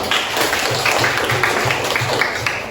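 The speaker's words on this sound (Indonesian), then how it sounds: "Tepuk tangan untuk kelompok 2." Students in a classroom clap for a student group after its presentation, a short burst of fairly loud, rhythmic hand claps with no talking.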